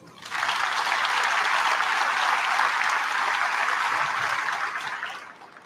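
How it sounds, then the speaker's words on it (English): Sustained audience applause at a high school National Honor Society induction ceremony, a dense, even wash of many hands clapping that swells in quickly, holds steady for about five seconds, then tapers off. "let's give a warm round of applause to our alternate speaker, Sophie Haynes"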